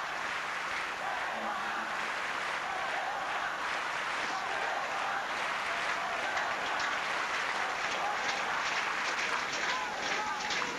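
A tennis crowd cheers and applauds for Stefan Edberg in his match against Rosset, a dense, sustained roar of clapping and shouting that holds steady from start to finish.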